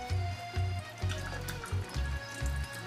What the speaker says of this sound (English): pour all that spinach juice out of there